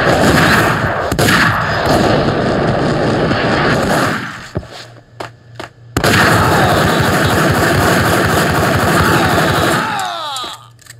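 Loud, dense gunfire from the Max Payne video game, with sustained bursts of rapid shots, a short lull with scattered single shots, then another heavy barrage.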